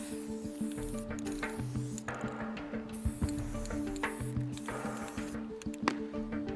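A can of spray paint hisses in short, repeated bursts during a magician's stage act, with steady background music playing underneath.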